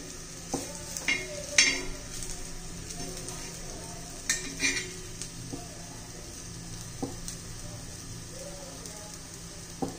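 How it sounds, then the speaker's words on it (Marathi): Spinach and colocasia leaf vadi crisping in a pan as they are turned on all sides, giving a soft steady sizzle broken by scattered clinks and scrapes of a utensil against the pan. "आता मी चारी बाजूनी भाजून घेते."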